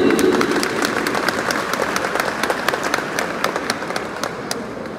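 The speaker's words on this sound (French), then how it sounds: "Applaudissez-vous." Applause from the audience at a law, economics and management faculty graduation ceremony in Cap-Haïtien: a steady wash of many hands clapping at moderate distance, with sharper individual claps standing out and no clear speech.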